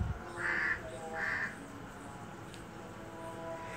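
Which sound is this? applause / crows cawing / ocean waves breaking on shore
crows cawing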